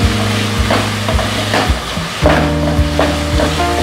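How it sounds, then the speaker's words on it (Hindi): Sausages fry in a pan for nasi goreng with a steady loud sizzle, while repeated stirring and scraping strokes and a low hum run underneath. "अब हम इसमें सॉसेज डाल देंगे। इसके साथ थोड़ी देर भूनेंगे।"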